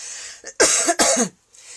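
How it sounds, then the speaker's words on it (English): A short, rough double cough, loud and close, with a soft breath before it and quiet afterward. "sorry, I'm going to cough in a minute."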